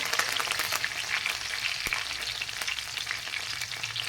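Mustard seeds, cumin and curry leaves sizzle and crackle in hot oil in a pan, a steady close frying hiss with scattered pops and no speech.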